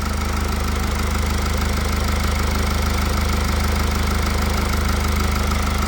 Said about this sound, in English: It does sound a bit noisy, to be honest. Not the quietest engine.